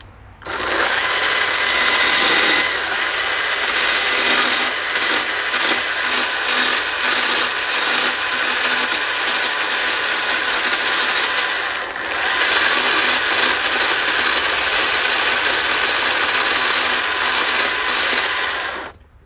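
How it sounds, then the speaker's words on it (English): Chainsaw roughly gouging out the gap between the ears of a small bear carved from a 2x4, loud and steady for most of the stretch, with a brief dip near the middle as the saw is rocked back and forth. "working the saw back and forth in between so I can gouge it down"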